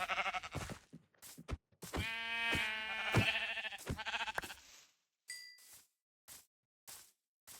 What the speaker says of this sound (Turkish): Şimdi koyun var burada.